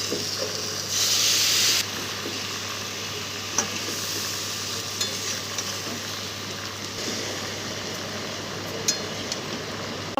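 A freshly ground paste of radhuni, mustard, poppy seed and a little ginger goes into a pan of frying shukto vegetables. It brings a burst of loud sizzling and hissing, then a steady low fry with occasional stirring clinks.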